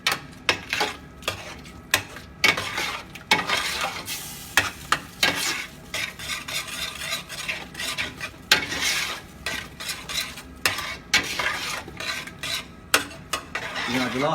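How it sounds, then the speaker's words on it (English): A thick, heavy sauce for fish pie being stirred in a pan, with repeated scraping and slapping strokes in an irregular rhythm over a faint sizzle, close and fairly loud, with no talking. "you've got to keep stirring it, you don't want to let it burn"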